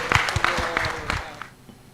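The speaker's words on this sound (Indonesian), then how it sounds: "Berikan aplaus dulu." Audience clapping at a national legal seminar, a short burst of scattered applause fading out within about two seconds.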